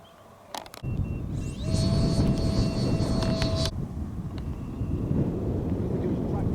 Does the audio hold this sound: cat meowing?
no